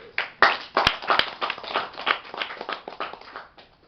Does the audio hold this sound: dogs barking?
no